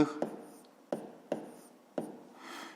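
A pen or pencil writes numbers by hand on paper in a quiet room, giving about five short, close scratching strokes with brief pauses between, ending in a softer rub.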